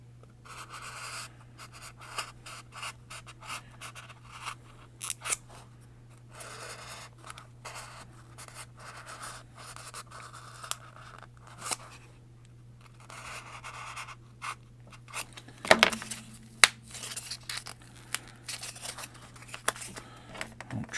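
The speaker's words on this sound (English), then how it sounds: "we're going to cut this window area out" Quiet, intermittent cutting and scratching as a craft knife cuts out the window area of a model town house, with small clicks and scrapes over a steady low hum and no talking.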